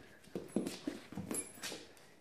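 A springador puppy plays with a toy lion and tears at it, giving faint scuffling, soft whimpers and chewing sounds in a quiet room with no talking.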